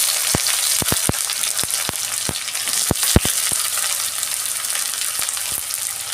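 Sliced onions sizzle steadily in hot oil in a home kitchen pan for a Bombay duck fish dish, the constant hiss broken by scattered soft clicks and taps of a stirring spoon.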